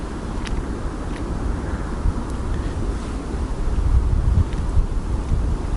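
Steady north wind blows hard along an open lake in Kyiv in winter, a constant low rumble with gusty buffeting against the microphone, swelling slightly in the middle.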